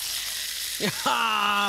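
Pork pieces frying in oil in a hot pan give a steady, close hiss and sizzle throughout, with a brief spoken murmur partway through.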